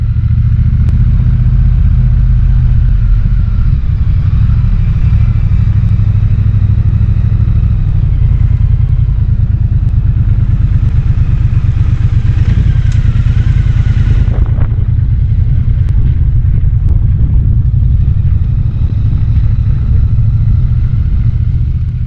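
2022 Triumph Bonneville Bobber ridden in British weather, a loud, steady low engine thrum with clattery rumble and wind noise, continuous and close throughout.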